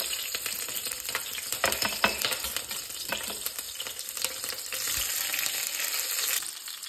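Green chilies and cumin seeds fry in hot oil for a beetroot chutney (pachadi), giving a steady close sizzle with scattered crackles and pops across the whole stretch, no voices.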